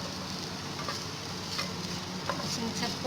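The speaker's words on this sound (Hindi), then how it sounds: "इन सबको हल्का हल्का हमने फ्राई करना है, सब्जियों को थोड़ी देर ये प्याज फ्राई करेंगे।" Julienne-cut capsicum, onion and cabbage fry in a pan with a continuous, dense sizzle that holds steady from start to finish, close and fairly loud.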